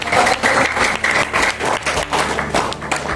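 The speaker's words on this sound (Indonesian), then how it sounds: "tepuk tangan dulu, tepuk tangan baru ya" Steady applause from a crowd, many hands clapping continuously at a fairly loud level without pause.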